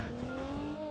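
A car driving in the video game PUBG Mobile, a steady loud engine drone with a tonal whine held through a brief moment.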